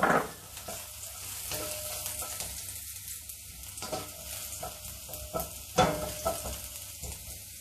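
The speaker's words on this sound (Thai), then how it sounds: "ตามด้วยกระเทียมสับ แล้วก็กุ้งแห้งค่ะนำลงทอดให้หอมเลย" Minced garlic and dried shrimp fry in rice bran oil, giving a steady close sizzle broken by repeated spatula stirs and scrapes against the pan, with no voices.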